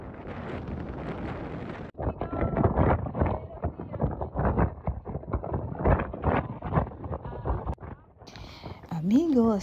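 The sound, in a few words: strong wind on a hilltop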